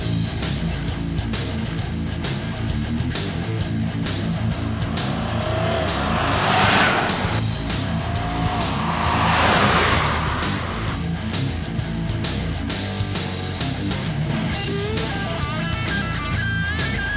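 A 2016 Audi Q7 engine roars hard and continuously accelerating from standstill, pitch climbing then dropping at gear changes as it builds speed, loud and close, with no voices.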